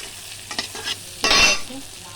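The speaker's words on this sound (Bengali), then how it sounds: "একটু হালকা ভেজে জল দিয়ে দেবো" A Bengali fish curry base of hilsa with brinjal fries lightly in a pan, with short stirring scrapes followed by a louder burst of sizzle partway through, close and without talk.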